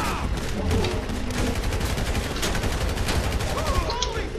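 Heavy gunfire erupts in Grand Theft Auto V, rapid overlapping shots and machine-gun bursts crackling loudly and almost without pause, mixed with faint shouted voices in the background.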